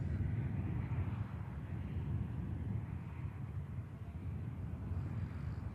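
An Air France Airbus A220 takes off at Manchester Airport, heard as a steady, distant low engine roar that holds evenly throughout with some wind noise and no talking.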